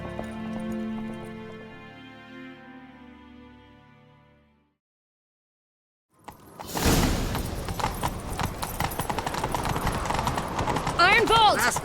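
Rhythmic hoofbeats of a galloping horse in The Witcher 3: Wild Hunt, arriving after a soft musical opening and a brief silence, loud and busy with mixed effects.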